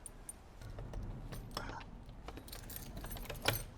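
A bunch of keys jangles while a locked room in a church in Rome is being opened, giving faint scattered metallic clinks and a brighter rattle near the end, with some quiet background noise.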